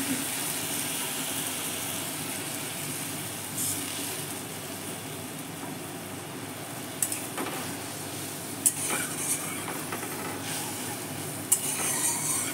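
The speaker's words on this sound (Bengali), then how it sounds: "মশলাটা ভালো করে কষিয়ে নেব" Spice paste of ginger and green chilli, with a prepared spice mix, being stirred and fried in a pan over high gas heat, giving a steady low sizzle with soft scraping and a few faint utensil clinks throughout, no talking.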